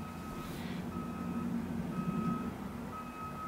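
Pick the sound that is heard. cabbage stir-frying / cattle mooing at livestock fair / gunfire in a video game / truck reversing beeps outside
truck reversing beeps outside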